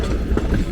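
A train at the North Carolina Transportation Museum rumbles past with a low, steady rolling clatter, heard briefly and at moderate distance.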